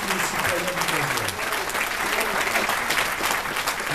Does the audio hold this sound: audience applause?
yes